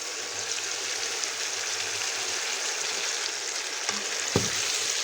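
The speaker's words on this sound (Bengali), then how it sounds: "এবার কিন্তু আমি খুব ভালো মতো মাংসটাকে কষিয়ে নিব" Marinated broiler chicken frying in a pan, a steady dense sizzle close up with a few clinks and a scraping stir near the end, no talk.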